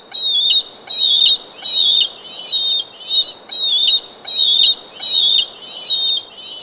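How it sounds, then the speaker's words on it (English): A large bird of prey screams in triumph, a sharp repeated high call sounding about ten times in an even rhythm, loud and close with nothing else around it. "Zephros raised her head to the sky and issued a loud scream in"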